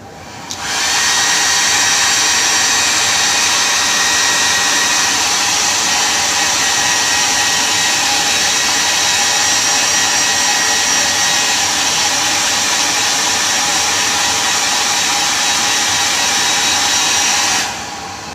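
A hair dryer on its high setting blows on a metal eyelash curler to heat it, a loud steady airy whir with a thin whine, running unbroken for about sixteen seconds before switching off, no talking.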